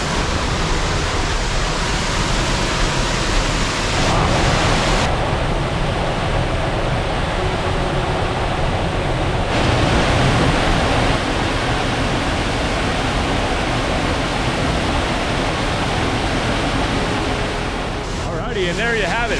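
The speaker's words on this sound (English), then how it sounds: "We're practically in a cave before heading under this massive waterfall here." A loud, steady roar of heavily falling water from a massive waterfall in the Great Gorge of Ohiopyle State Park fills the scene, broadband and constant, with a brief shift in tone partway through.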